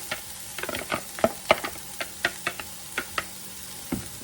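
Shrimp tossed into a hot pan and stirred give a series of close, sharp spatula clicks and scrapes at an uneven pace over a light, soft sizzle.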